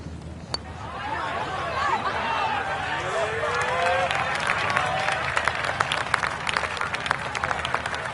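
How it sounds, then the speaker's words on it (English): Crowd applause and cheering from a PGA Tour golf video game swell and hold for several seconds after a long birdie putt on the 17th hole, a dense wash of clapping and chatter with no commentary over it. "you talk about electrifying this crowd."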